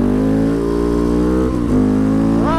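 A KTM 690 SMCR single-cylinder motorcycle pulls out of a corner under power, its engine droning loud and steady, then dipping briefly before revving up again near the end.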